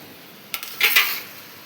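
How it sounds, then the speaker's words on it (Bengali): A lid lifted off a cooking pot of simmering bottle gourd curry, a sharp metallic clink followed by a brighter scraping ring, close and loud against quiet background. "এবারে ঢাকনাটা সরিয়ে নিচ্ছি"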